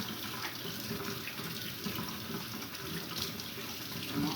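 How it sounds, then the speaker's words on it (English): Tap water runs steadily from a faucet into a sink while raw chicken drumsticks are washed with salt, a constant close splashing rush with no talk. "I'm washing it with salt and water."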